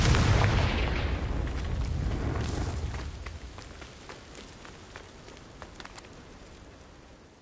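A Confringo blasting spell explodes in a Harry Potter video game, a loud deep boom that decays into rumbling debris and scattered crackles, with no voices.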